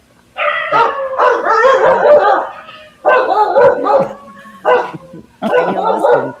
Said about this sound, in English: Those people can't handle the barking.